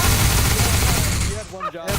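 Dense, continuous volley of gunfire from a squad firing on command in a military-style game operation, loud and sustained before cutting off abruptly near the end, with some voice chatter mixed in.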